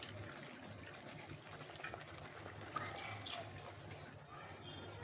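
One and a half cups of water poured into a pan already holding mango pulp and a spoon of ghee, a soft, steady splashing stream heard close and fairly faint.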